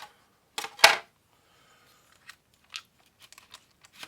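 A plastic body shell is popped off a 2015 Tamiya TRF211XM RC car chassis with titanium screws, giving a couple of sharp close snaps and crackles, followed by a few faint small clicks and taps of handling in a quiet room.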